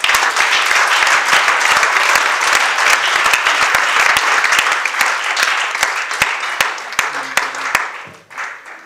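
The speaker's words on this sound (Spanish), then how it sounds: "Puede darle un aplauso al Señor." A church congregation at a Monday evening sermon in Renton applauds in a loud, steady burst of clapping that continues for several seconds before thinning out and fading at the end.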